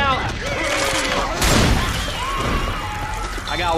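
Pipe bomb blast in the zombie shooter Left 4 Dead 2, a broadband burst around the middle of the clip amid gunfire and game noise, with a person talking over it.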